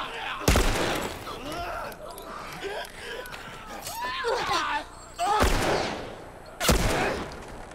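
Several sharp gunshots ring out in The Last of Us, spaced apart and loud, while someone talks excitedly between the shots.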